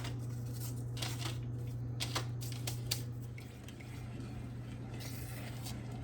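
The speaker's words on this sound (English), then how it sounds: "as the butter's melting, you want to continuously stir to get the brown sugar incorporated in the butter" Butter and brown sugar are stirred in a pan as the butter melts, giving soft scraping and light clicking of a utensil against the pan over a low steady hum, with no voices.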